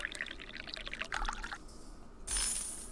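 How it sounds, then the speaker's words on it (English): Green tea pours from a pitcher into a glass in a game kitchen, a soft trickle with small drips, quiet and close. A brighter splash swells near the end. "let's pour in some green tea"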